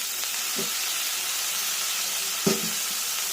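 Chopped tomatoes frying in a pan for chickpea curry, a steady close hiss of sizzling with a couple of soft clinks and a brief stirring knock, no talk.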